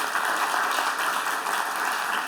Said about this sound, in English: a warm applause from here